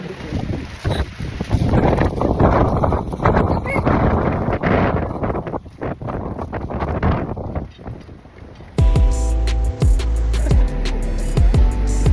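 Strong wind roars and buffets the microphone for most of the stretch, ending abruptly as a different steady, tonal sound takes over.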